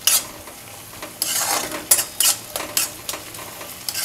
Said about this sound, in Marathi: आलं लसूण पेस्टसुद्धा आता एकदम छानपैकी छान परतली गेलेली आहे